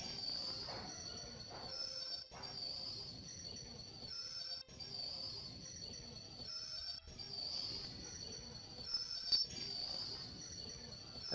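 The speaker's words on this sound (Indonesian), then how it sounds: "Kita tunggu sampai kereta berhenti sempurna dengan kecepatan 0." In a train game, a train slows to a stop at Kertosono station, its wheels giving a faint, sustained high squeal that breaks off briefly several times, with a soft rumble beneath.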